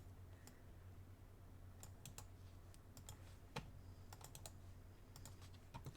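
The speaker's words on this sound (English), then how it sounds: "Can hear me click, click, clicking away on my mouse there." Sharp computer mouse clicks during an adult coloring session on a computer, coming in irregular single and double taps, some in quick clusters, faint and close against a steady low hum.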